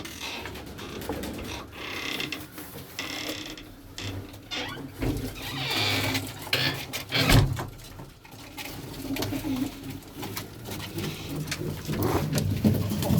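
White tumbler pigeons cooing inside their loft, soft repeated low coos mixed with creaks and rustling movement, close by and continuous, with no one speaking.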